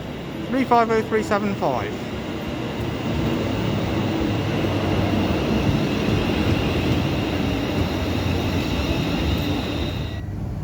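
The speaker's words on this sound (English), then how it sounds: "here comes my train to Stafford" Train pulling into a station, a loud continuous rumbling roar of rolling wheels that builds and holds for most of the clip, with a short announcement-like voice near the start.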